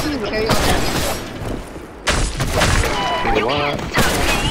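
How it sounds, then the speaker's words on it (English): Rapid bursts of gunfire crackle and boom in a busy, loud mix from the video game BlackShot, with people talking over the shooting. "Gunfire"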